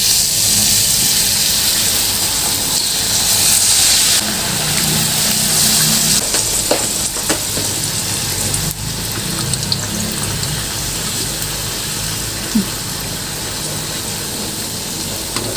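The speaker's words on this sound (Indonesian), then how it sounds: "Kita goreng." Wonton-wrapped banana snacks sizzle and crackle in hot oil, a loud continuous hiss with occasional pops and faint clinks of utensils.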